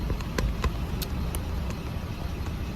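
A Garda armored truck idling beside a fast-food drive-through, a steady low engine rumble with faint traffic around it, heard outdoors without talk.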